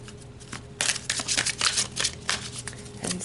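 Tarot cards being shuffled by hand, a quick run of crisp riffling bursts that starts after a brief pause and continues steadily, close and fairly loud.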